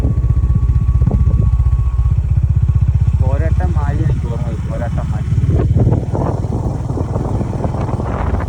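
A motorcycle rides a rough, broken road through thick fog, its engine a steady close drone mixed with wind buffeting, while a few brief voice-like sounds rise over it midway.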